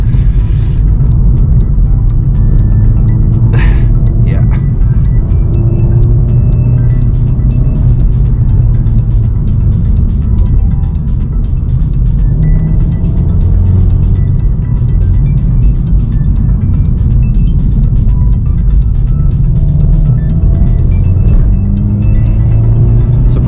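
A Volkswagen Golf GTI Mk7.5 Performance with 315 hp is heard from inside while driving. Loud, constant engine drone and deep road rumble continue throughout, with slight swells under acceleration.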